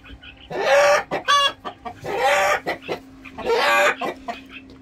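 Hens cluck loudly and repeatedly in bursts at close range, with a steady low hum running underneath.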